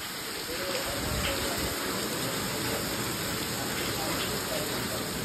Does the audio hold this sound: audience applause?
no